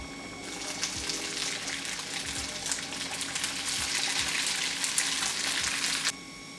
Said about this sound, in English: I'm gonna put 1 tablespoon of sesame oil to cook the tofu in.